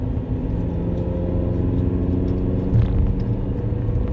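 Steady low rumble of a car engine and tyre noise from inside a moving car, constant and even with no voices.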